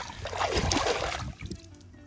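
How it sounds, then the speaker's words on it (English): A toy tiger thrown into water makes one close splash and slosh that fades into a brief trickle. "Let's throw it in the water."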